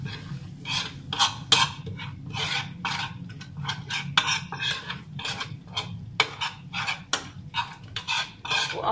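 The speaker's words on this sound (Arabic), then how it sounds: "هسه بعد ما سخن عندي الزيت راح اخلي له هذا النعناع الباقي واخلطه مع الزيت" Mint is stirred into hot oil in a pan: a long run of repeated scraping, rasping strokes of a spoon against the metal, irregular but steady, up close over a low sizzle, with no voices.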